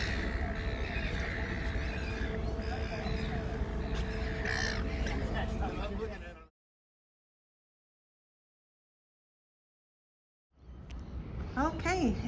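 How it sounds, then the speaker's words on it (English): Seabirds caw and squawk repeatedly near a river boat moving past a bridge toward its mooring, mixed with engine and water noise and a voice talking, then a sudden gap of silence before the calls return. "You can hear the seabirds."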